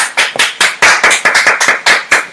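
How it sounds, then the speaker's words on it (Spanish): Strong, rhythmic clapping in a church service, a dozen or so sharp, close claps in quick uneven bursts, loud and clear with no talking over them. "Dale un fuerte aplauso a Jesucristo."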